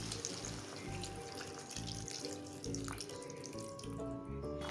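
Dissolved tamarind water poured into simmering sambar with eggplant, a steady close splashing, gurgling flow that stays fairly faint throughout.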